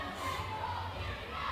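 Central's fans cheer at the YAIAA cheerleading championship, a steady roar of crowd shouting and cheering from the stands, continuous and fairly distant.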